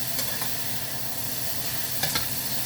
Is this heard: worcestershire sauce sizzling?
yes